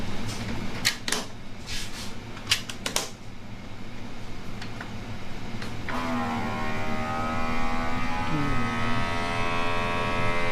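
Vacuum sealing machine packing hotdogs, a run of sharp clicks and clatters followed by a steady rising mechanical hum with tonal whine, close by and fairly loud.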